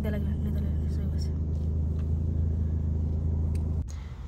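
Cars and other vehicles rumbling past along a road at a US wildlife park, a steady close traffic drone that cuts off abruptly near the end.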